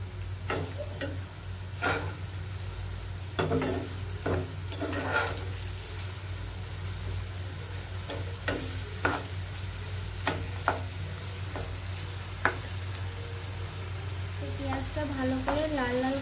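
A steady sizzle of chicken masala frying in a pan with salt added, broken by repeated scraping stirs of a spoon against the pan at an irregular pace, close up with no talking.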